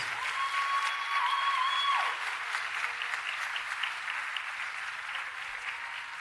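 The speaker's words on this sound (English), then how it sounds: "A round of applause for them, please." Steady applause from a crowd at a college graduation ceremony, dense clapping that holds at an even level throughout, with a brief tone fading out early on.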